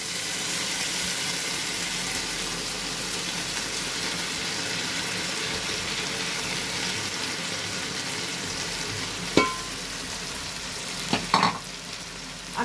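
Washed lentils go into hot oil with whole spices, a dense continuous sizzle that stays even and close, broken near the end by a few sharp clinks from a utensil.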